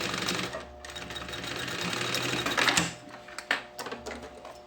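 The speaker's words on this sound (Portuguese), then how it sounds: "dobro minha pontinha e passo uma costurinha" Sewing machine stitching the strap of a fabric lunch bag, a rapid mechanical clatter in bursts that stops and restarts toward the end.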